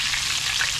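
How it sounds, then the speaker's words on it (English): Triggerfish fries in a skillet with a close, dense, steady hiss of sizzling oil for under a second. "I'm gonna take that triggerfish out of the skillet."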